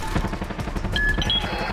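Rapid automatic gunfire in the Far Cry 6 video game, a dense rattling stream of close, loud shots with a few brief metallic tones and no speech.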